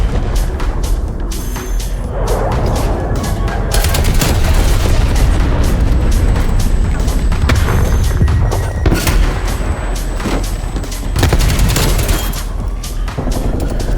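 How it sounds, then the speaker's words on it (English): A napalm strike in Call of Duty Black Ops erupts in loud, continuous booming blasts and rumbling fire, layered with rapid gunfire bursts throughout. "Napalm strike inbound."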